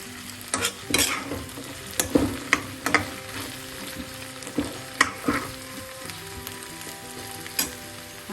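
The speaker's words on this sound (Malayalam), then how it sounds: "ഹൈ ഫ്ലെയിം ആക്കുക വീണ്ടും എല്ലാം കൂടെ ഒന്ന് ഇളക്കി" Potato and okra stir-fry on high flame in coconut oil, stirred with a spatula: a series of sharp scrapes and clacks against the pan over a steady sizzle, close and clear.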